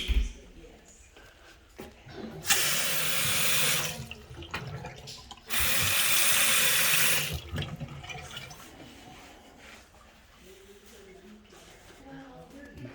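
Water running from a slightly leaking household faucet during a move-in inspection, heard as two loud steady bursts of rushing flow separated by a pause, with quieter room noise and movement around them.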